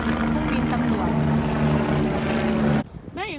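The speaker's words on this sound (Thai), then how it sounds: "นั้นเครื่องบิน" An airplane passes overhead above an open field, a broad droning roar that fills most of the moment, then cuts off abruptly as a voice begins speaking.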